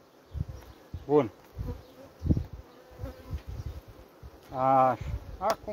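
Honey bees from a strong colony buzz around hive frames pulled out during starter preparation for queen cell rearing, a steady close drone with a few louder passes near the ear, while someone talks intermittently.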